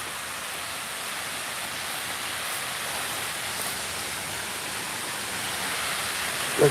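Creek water flows in a steady, even rushing wash, close and continuous with no talk, a constant broadband hiss holding the same level throughout.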